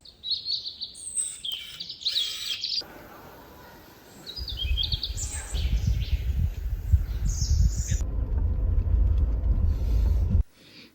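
Birdsong in a quiet forest: high chirps and warbling phrases come first, alone and fairly close, then a steady low rumble like wind or a distant machine rises beneath more scattered calls.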